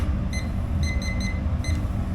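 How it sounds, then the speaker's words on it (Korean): A kitchen timer alarm sounds while a pot of boiling snow crab finishes cooking, giving short high beeps in groups of one and two over a loud steady hiss of steam and burner noise. "25분이 다 돼가지고 알람이 울리고요"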